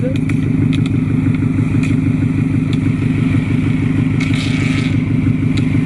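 A Scion FR-S with a Tomei exhaust rumbles loudly and close in a steady, throbbing idle-like drone, with light clatter and brief faint voices over it.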